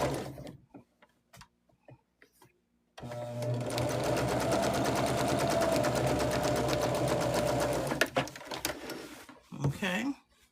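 A sewing machine runs steadily for about five seconds with a rapid, even mechanical rattle, stitching lines along the seam of a patchwork pillowcase cover. Brief speech and quiet handling noises come before and after.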